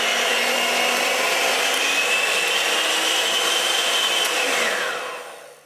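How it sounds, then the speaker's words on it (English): A 280-watt electric whisk runs from a solar-charged battery, a loud steady motor whine held for several seconds close by, then spinning down and fading at the end. "So something you can run from the solar panel and the battery is our electric whisk."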